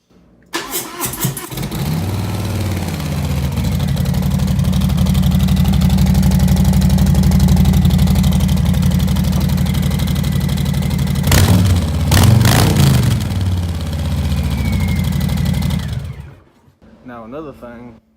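Harley-Davidson Street Bob motorcycle with a slip-on exhaust fires up and settles into a loud, steady idle, its deep rumble carrying close by with a brief pause and a blip near the end before it cuts off.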